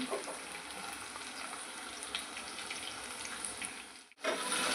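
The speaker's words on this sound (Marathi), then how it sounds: "कांदा सुद्धा छान असा परतवून घ्यायचा" Onion sautéing in oil with ginger, garlic and curry leaves for a cauliflower and brinjal curry: a steady close sizzle with scattered stirring scrapes that drops out briefly near the end, then returns louder.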